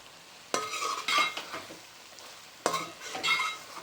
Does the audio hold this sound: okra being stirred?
yes